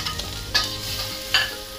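Garlic and ginger sautéing in a little oil in a wok, a steady soft sizzle broken by two brief louder bursts of stirring scrapes, close and without talk.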